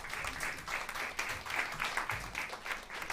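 An audience at a panel event on food, agriculture and climate gives a round of applause, a dense, even wash of many hands clapping at moderate distance, sustained without pause.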